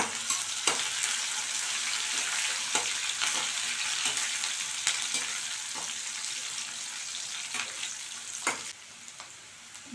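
Curry leaves frying in hot oil for a banana stem stir-fry, a steady bright sizzle with occasional pops and crackles, close and fairly quiet.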